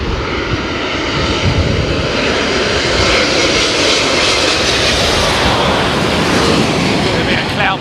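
A Boeing Dreamliner landing in a crosswind at London Heathrow, its engines roaring loud and steady throughout with broadband wind-like rush.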